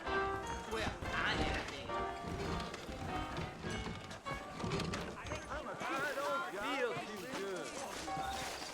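Horse hooves clip-clop in the western video game Red Dead Redemption, moderately close and mixed with game sounds, while characters talk over much of it.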